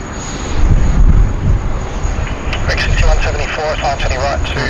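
A China Southern passenger aircraft on runway 16 right at Sydney Airport gives a loud, sustained engine roar with wind buffeting the microphone, and a voice talks over it.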